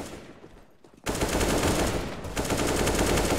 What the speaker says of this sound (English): Shots ring out